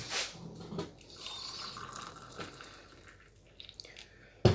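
Hot water pours into a container of jelly in a soft, uneven stream, with a few splashes and clinks, close and fairly quiet.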